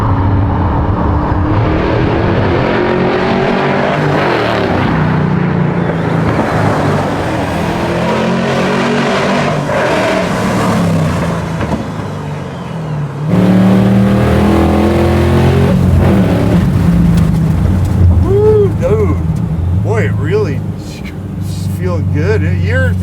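A garage-built 600whp square body Chevy truck engine roars loudly from inside the cab as it revs hard, with the engine pitch rising and falling. People talk excitedly over the engine noise.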